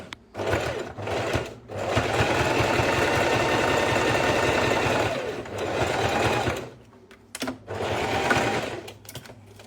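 A sewing machine stitching a fabric school pouch, a close steady motor hum with rapid needle chatter running in long bursts, stopping and restarting several times.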